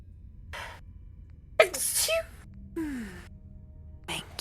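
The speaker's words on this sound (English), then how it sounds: "Pardon me, I need to sneeze" A sneeze bursts out mid-recording, preceded by a sharp inhaled gasp and followed by a brief exhale, close to the microphone in a quiet room with a faint background hum.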